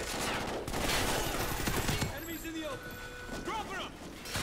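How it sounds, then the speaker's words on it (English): Call of Duty: Ghosts gunfire rattles as a dense fusillade of rapid shots, loud at first and then thinning, with voices talking over it and whizzing ricochet-like tones toward the end. "Yeah, bullets."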